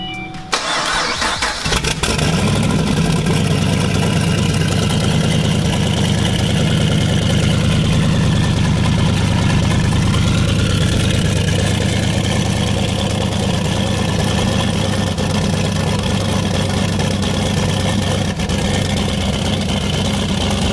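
A turbocharged Chevrolet Camaro engine cranks and fires up within the first two seconds, then settles into a loud, steady, low rumbling idle close by that holds to the end.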